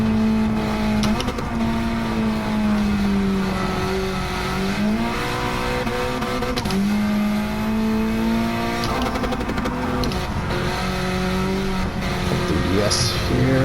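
A Honda Civic Type R FK8 lapping a race track, its engine loud and steady with rising revs through the gears and repeated shifts, the sound continuous and close, with speech from inside the car over the engine.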